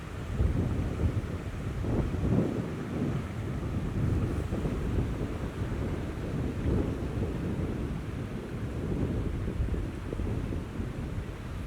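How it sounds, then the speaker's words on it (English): Donegal mountain river, the Owendoo, rushing steadily in a broad, continuous roar of flowing water with gusty wind buffeting the microphone outdoors. "That's a real Donegal mountain river there."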